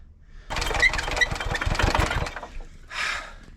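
A 1970s Hatz diesel engine on a compactor roller cranks over and fires roughly for about two seconds with heavy knocking pulses, then falls quiet before a short hiss-like burst at the end.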